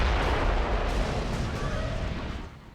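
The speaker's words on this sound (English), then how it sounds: "Mortars! The grubs are gonna flatten that house if we don't stop them." Mortar fire and explosions in the video game Gears of War: Judgment, a loud rumbling blast with heavy low-end boom that rolls and gradually fades over a few seconds.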